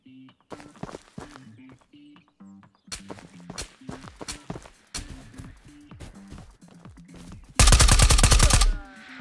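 Gunfire in a looting shooter game: scattered single shots and clicks with a burst of loud rapid automatic fire near the end, mixed with footsteps and gear movement, while someone talks over much of it.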